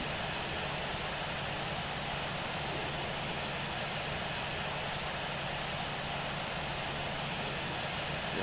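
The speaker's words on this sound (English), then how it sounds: "JetBlue 9901 is taking off runway 32 left, remaining in the pattern" An Airbus airliner takes off in the Infinite Flight simulator, its jet engines giving a loud, constant, broadband roar that fills the whole stretch with no talk over it.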